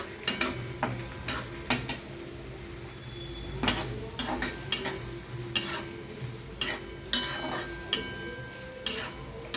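Chopped onion and green chili fry in hot oil for poha, a soft sizzle under repeated scraping and stirring strokes of a spoon against the pan, close and fairly quiet.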